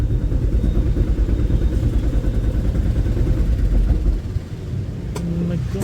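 An auto rickshaw engine chugs loudly and close up as the vehicle pulls forward in a taxi stand queue. Its rough, rattling idle stays steady, then settles lower near the end.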